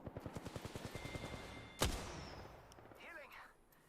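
Gunfire in Apex Legends: a rapid burst of automatic shots opens, then one sharp, loud sniper-rifle crack rings out and trails off with an echoing tail.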